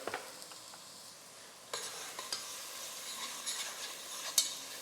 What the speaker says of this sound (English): Whenever we hear that onion hit the pan and that sizzle, we're getting a caramelization